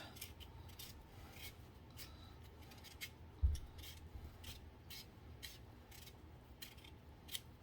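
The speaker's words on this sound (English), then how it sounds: "we got a turnip here. I'll just peel that up." A turnip being peeled for homemade chicken stock, faint rhythmic scraping strokes repeating at a steady pace, close and quiet with no talking.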